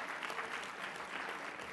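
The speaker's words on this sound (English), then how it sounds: "let us give, again, Tom Cochran and the great staff at USCM a big round of applause" Brief, steady applause from a seated audience at a plenary session of a mayors' conference, many hands clapping in a dense, even wash.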